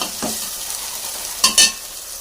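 Chicken for biryani is stirred in a hot pan, with a steady sizzle and two quick, loud scraping strokes of a utensil against the metal near the end.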